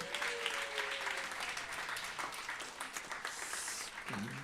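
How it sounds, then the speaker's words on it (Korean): A church congregation applauds during a Sunday worship service, sustained dense clapping from many hands filling the room steadily from start to finish, with a faint voice briefly rising under it near the end. "박수 한번 해주십시오."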